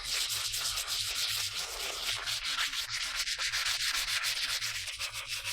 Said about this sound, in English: He then sands the primer layer, which smooths the surface, improves top coat adhesion, and enhances the final finish.